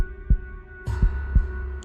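A heartbeat sound effect in a narrated story thumps in low, muffled beats, one early and then a quicker pair, over a faint steady hum.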